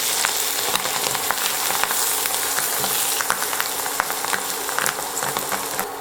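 Omelette mixed with red ant eggs frying in hot oil in a pan, giving a steady, dense sizzle and crackle with scattered sharper pops throughout, fairly loud and close.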